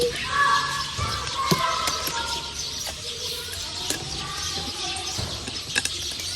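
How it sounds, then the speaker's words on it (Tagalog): Scattered bird chirps and tweets sound nearby against an outdoor background, with faint voices mixed in. "maingay yung mga ibon"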